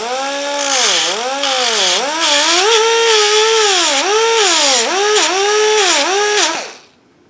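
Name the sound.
power tool deburring a sharp metal point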